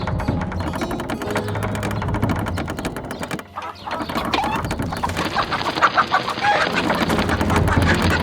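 Cartoon chickens clucking around a farm chicken coop, busy fowl calls and a rooster-like crow layered over lively nursery-rhyme music with bright effects, steady and fairly loud throughout with a brief dip midway.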